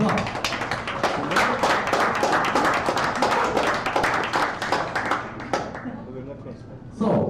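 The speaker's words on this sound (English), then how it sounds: "Yeah, give a round of applause." Audience at an astronomy talk in a bar clapping for contestants coming on stage, a few loud, close individual claps merging into uneven applause that tapers off near the end, with voices talking underneath throughout.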